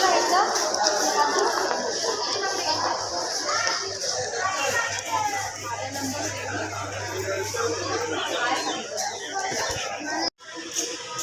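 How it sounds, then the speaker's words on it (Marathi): A crowd mills about a busy train station on the way to Mumbai, with steady chatter and a dense hum of many voices. Someone talks over the din close by. "मित्रांनो गर्दी लागते"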